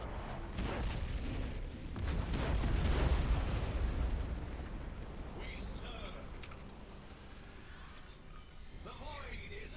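Torpedo hits land on ships in the space strategy game Battlefleet Gothic Armada 2, with deep rumbling explosions swelling to a peak near the middle and then tapering off under intermittent voices.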